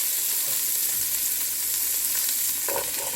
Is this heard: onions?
yes